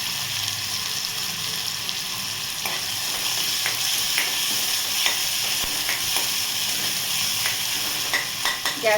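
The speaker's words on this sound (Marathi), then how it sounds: "गॅस फास्ट ठेवूनच आपल्याला हे असं परतून घ्यायचं आहे." Tomatoes and coriander are sautéed on a high gas flame, making a continuous bright sizzle with frequent stirring scrapes and ticks that get busier toward the end, and no one talks.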